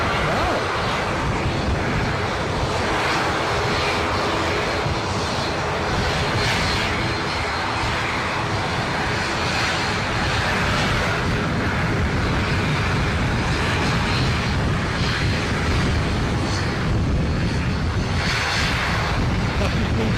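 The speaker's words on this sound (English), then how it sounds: "Getting absolutely blasted by the turbofan noise." Jet turbofan engine noise at Edinburgh airport roars loud and close, a continuous broadband blast that swells slightly with wind buffeting the microphone.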